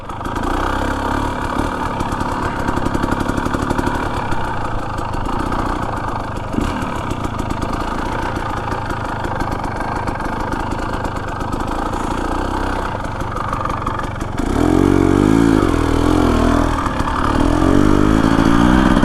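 Husqvarna TE 250 dirt bike with an FMF exhaust and TSP tune rolling slowly in first gear, a steady close engine drone that thickens into a louder, rougher pull near the end.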